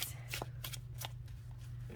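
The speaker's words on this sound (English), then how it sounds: "it shuffles so lovely, and it's not too thin" A Shadowscapes tarot card deck being shuffled up close, quick crisp riffling bursts repeating in an irregular rhythm over a faint steady hum, no voice.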